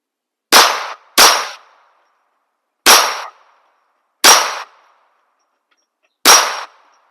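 Five sharp .22 pistol shots from a Smith & Wesson ring out against a metal soda can, spaced irregularly with two close together at the start, each a crisp crack with a brief metallic clang, loud and outdoors with no talk.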